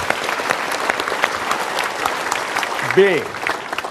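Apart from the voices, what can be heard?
audience applause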